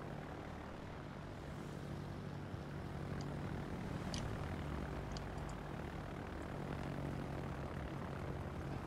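Propeller aircraft engines drone steadily as planes dive in World of Warships, a continuous low hum with faint higher whines and a few brief clicks layered on top, no voices.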